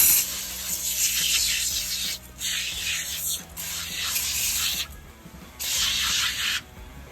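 Hissing bursts of Super Clean degreaser sprayed from a bottle in a shop, four separate squirts of a second or so each with quiet pauses between.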